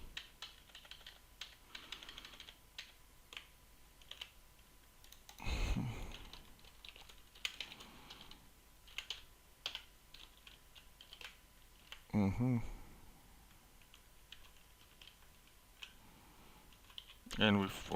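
Typing on a computer keyboard while coding in C#: a steady patter of light key clicks close by, broken by a few louder thumps and clusters of heavier keystrokes.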